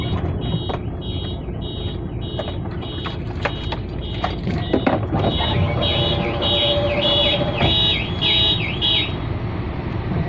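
A vehicle alarm at a loading site in Zeebrugge, Belgium, sounds in rapid repeated electronic wails and pulsing tones, loud and close over engine rumble and background noise.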